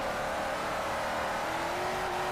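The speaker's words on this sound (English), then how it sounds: "It's a really fun car to drift." A Camaro or Scion FRS drifts with a loud, sustained engine whine and revving that stays close and steady, a faint rising tone hinting at tire scrub, with no voices.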